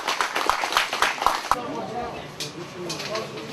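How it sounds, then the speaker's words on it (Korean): Guests at an agreement-signing ceremony in Myeongsan-ri village, Pocheon, clap in welcome, a quick burst of close, scattered applause that fades after about a second and a half into room murmur and a few stray claps. "참석하신 우리 내외빈께서는 모두 자 박수로 환영해 주시기 바랍니다"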